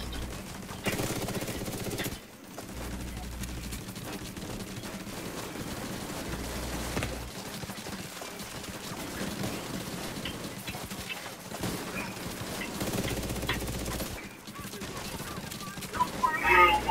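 Bursts of rapid automatic gunfire in The Division 2 rattle on and off through a noisy firefight, fairly quiet overall, with players talking over the shooting.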